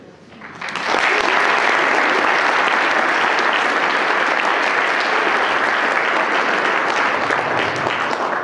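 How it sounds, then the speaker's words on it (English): Loud, sustained applause from an audience at a wildlife society awards ceremony, swelling in within the first second and holding steady and dense for the rest. "I stand up in front of a room full of agency folks to a bunch of supportive applause"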